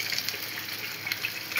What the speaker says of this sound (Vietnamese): Còn đây thì đang chiên thêm